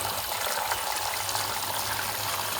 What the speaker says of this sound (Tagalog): ilagay sa running water